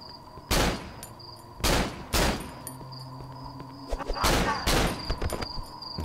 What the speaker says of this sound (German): jetzt habe ich natürlich einen Schuss zu viel draufgeballert, was total unnötig ist